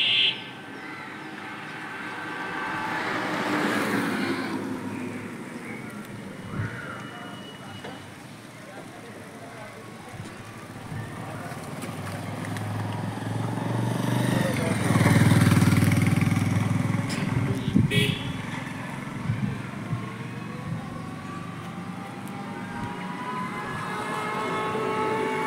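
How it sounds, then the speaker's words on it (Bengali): Small battery-powered toto e-rickshaws pass one after another along a freshly rebuilt village road in Nadia, their motors and horns rising and falling as they approach and recede, with a person talking throughout and background street noise. "অনবরত টোটো আসছে আর যাচ্ছে"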